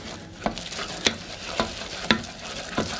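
Choux pastry dough being worked in a pan over heat, with a whisk or spoon scraping the pan in regular strokes about every half second over a low background hiss, close and moderately quiet, without speech.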